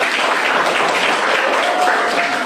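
Applause from a classroom group cheering the kencur team in a school coaching session: dense, steady clapping fills the whole stretch at an even, fairly loud level without a break.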